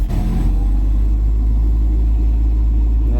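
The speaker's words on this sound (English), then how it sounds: "jack up the front end and we can have it spin the wheels in gear" A Turbo LeBaron GTC engine runs in gear with the front end jacked up, wheels spinning freely: a loud, close, steady low rumble and drone with no talking.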